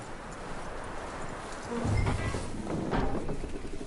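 Horse hooves clip-clopping in Red Dead Redemption 2, a steady trot of soft thuds growing louder midway over a faint outdoor ambience.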